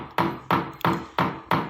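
A hammer drives a nail into a wooden door frame to start a hole for a pull-up bar: five sharp, evenly spaced knocks, close and clear, with no talking.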